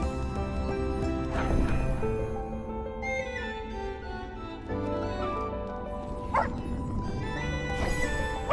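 Cartoonish dog barks and yips from a cozy dog adventure video game, a few distinct bursts over bright game music that plays throughout.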